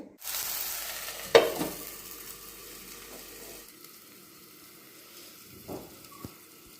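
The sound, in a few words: stirring radish beans cooking in a pan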